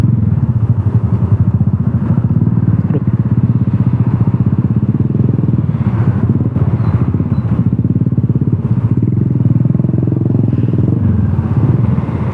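Motorcycle engine idling and creeping in a traffic jam on Jalan Tunjungan at dusk, a steady close putter with surrounding engines and street noise, no talking.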